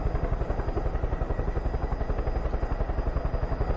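Aircraft flying in Far Cry 5, a steady rapid rotor-like chopping thrum, loud and close, pulsing evenly throughout with no break.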